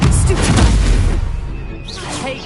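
A Confringo blast spell explodes in a Hogwarts wizarding video game: a heavy booming burst up front that rumbles and decays, followed by fainter magical whooshing effects near the end.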